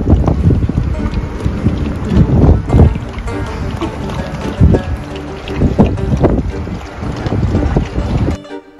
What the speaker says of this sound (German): Wir hatten leider die ganze Zeit so starken Wind, dass ihr uns auf dem Video nicht verstehen könnt.